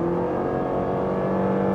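A Renault Samsung SM6 with an LPG engine accelerates hard, producing a steady, droning engine hum whose pitch holds mostly even. No one speaks.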